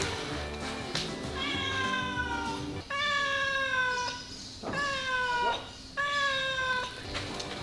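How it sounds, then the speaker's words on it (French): A cat meows repeatedly and loudly, close by, in a series of long drawn-out cries with brief pauses between them, and nothing else stands out over the calls. "il a trouvé un chat, il lui a fait une petite maison, petite niche"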